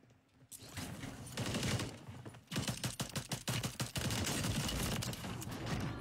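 Rapid automatic gunfire from a Sidewinder in the shooter Warzone, long sustained bursts of loud fire with a brief lull before a rattling string of separate shots, no voices.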